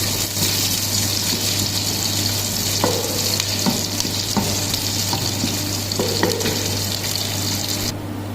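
Whole spices and green chili sizzling with onion in oil for a beef biryani in a pressure cooker, a dense steady frying hiss with a few soft stirring taps, no speech.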